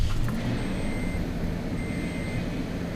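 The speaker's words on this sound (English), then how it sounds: "Start the car" A 2005 Toyota Tundra's engine runs steadily with the truck raised off the ground, a close, even rumble with a constant drone and no breaks.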